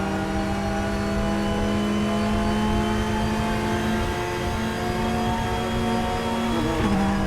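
A race car engine in the sim racing game RaceRoom holds a high, steady revving drone that climbs through the gears, loud and continuous, with a brief pitch dip near the end as it shifts.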